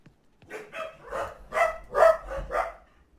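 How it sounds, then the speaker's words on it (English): Dogs bark outdoors, five or six loud yapping barks in an uneven sequence, with a low hum under them and no talking. "There's the doggies."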